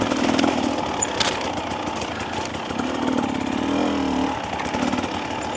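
A 2025 Husqvarna TE300 dirt bike engine drones steadily and loudly on a technical trail over roots, rising and falling with the throttle and never letting up.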